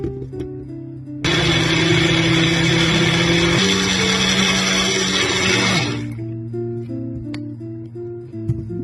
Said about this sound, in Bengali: একে একে সব ইনগ্রিডিয়েন্টস গুলো আমরা ব্লেন্ডারে মিক্স করে একটা সস বানিয়ে নিব।